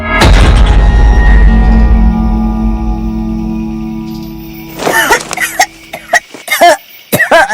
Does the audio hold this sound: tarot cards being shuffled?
no